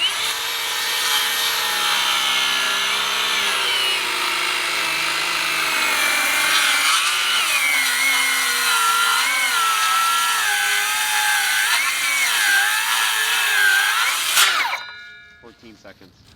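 A cordless circular saw rips through wood with a loud, sustained high whine that wavers as the cut loads and eases, then spins down abruptly near the end.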